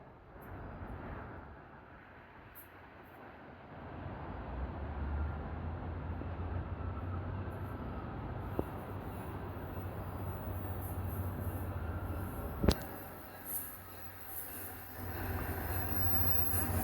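NJ Transit train 807, hauled by GP40PH-2 heritage-unit locomotive 4101, pulls into Madison, New Jersey station, a steady rumble of engine and rolling railcars with brief wheel squeals and a sharp clank partway through, no talking.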